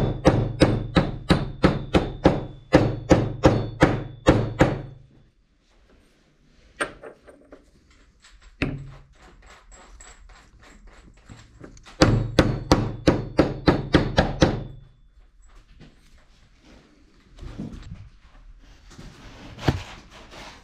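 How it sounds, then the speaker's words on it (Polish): Repeated metal hammer blows pressing a part into a Renault tractor power steering cylinder in a workshop, coming in two rapid bursts of a dozen or so sharp strikes each, with a few scattered clanks between and after. "Może byśmy dobrali nasadkę i go wprasowali."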